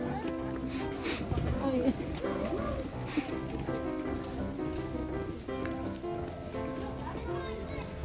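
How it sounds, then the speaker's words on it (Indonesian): Heavy rain pours down outdoors at Ulun Danu in Bali, a steady broadband hiss lasting throughout, with birds cooing and people talking over it. "Wah, hujan gede ini."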